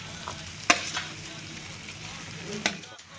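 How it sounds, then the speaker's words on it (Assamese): Pork sizzles in hot oil with onion and ginger-garlic paste, a steady frying hiss broken by a couple of sharp utensil scrapes and clanks as the pan is stirred. "এতিয়া পিঁয়াজ আদা নহৰু পেষ্টখিনি ভজা হৈ গৈছে এতিয়া ইয়াত গাহৰিখিনি দি দিব লাগিব"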